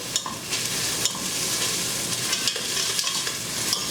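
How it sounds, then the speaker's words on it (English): Tomato paste fries in a pan for a marinara sauce, crackling and sizzling steadily up close while a spoon stirs and scrapes through it in irregular strokes. "And we want to fry this tomato paste a little bit"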